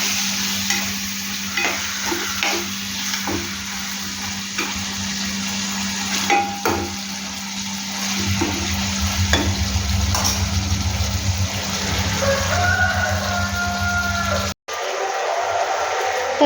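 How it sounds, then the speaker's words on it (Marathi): Chicken being stir-fried in a pan, a steady loud sizzle with repeated spatula scrapes and clicks and a low rumble underneath, briefly cut off near the end. "याला चटका बसूपर्यंत आपण थोडंसं परतून घेऊ"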